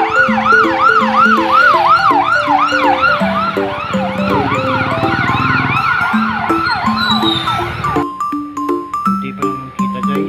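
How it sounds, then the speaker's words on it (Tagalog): An ambulance siren wails loudly and close by in a steady rising-and-falling cycle on a street, passing with a bright ding-like tone pattern mixed in, then cutting off abruptly near the end. "Ay may dumarating na bumbero guys. Ay ambulansya pala guys."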